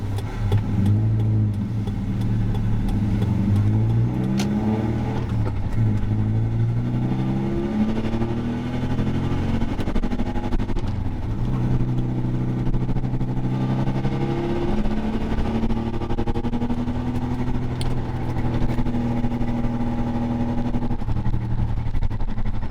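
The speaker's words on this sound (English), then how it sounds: "where I'm driving on a nice twisty road with the new sway bar" A Mazda minitruck fitted with a stiffer front sway bar drives a twisty road, its mid-pitched engine rising and falling through repeated gear changes and throttle lifts, steady and close throughout with no talking.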